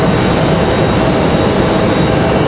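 An Icelandair airliner arriving at Raleigh-Durham airport at night, a loud, broad, steady jet roar filling the whole stretch with no pauses and no voices.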